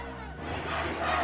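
Crowd of Iranians shouting in a metro station in northern Tehran, a loud sustained roar of many voices echoing in an enclosed space and swelling toward the end.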